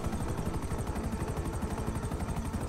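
A plane engine in GTA V Online drones steadily and loudly with a pulsing, rotor-like throb, continuous throughout without talk.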